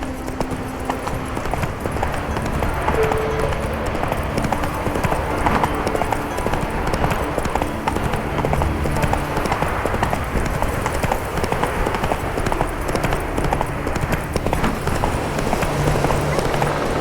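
Roach the horse galloping in The Witcher 3, a fast steady drumming of hooves with a rumbling low end, continuous and loud, with a brief voice at the start.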